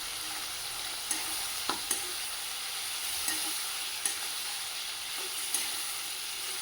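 Ground spices fry in oil for a Bengali prawn and onion curry, a soft continuous sizzle with occasional light scraping stirs spaced a second or so apart, fairly faint.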